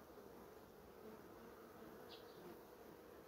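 Honeybees buzzing at a hive badly damaged by varroa mites, a continuous faint, even drone of many insects close by with no voices.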